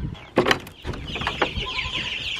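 Meat bird chickens clucking in a coop, a close run of several short, irregular clucks and squawks with no talk.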